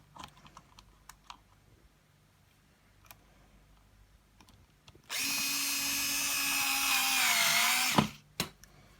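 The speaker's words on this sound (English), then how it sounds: "And just get it in, screw it back into place." A power screwdriver drives a wood screw into a Britax Go Next stroller brake part, one steady whirring burst of about three seconds that winds down at the end, with small clicks and handling noises before and after.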